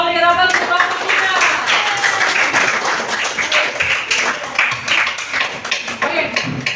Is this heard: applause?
yes